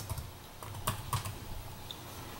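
Keys tap on a computer keyboard in a quiet room, a few soft, close keystrokes with two slightly firmer presses in the middle, alone without talk.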